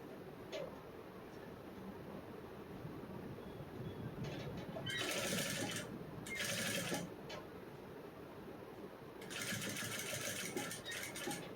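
A sewing machine stitches a back-open princess-cut blouse in quiet bursts of fast, rhythmic whirring that start and stop between pauses, with no voices.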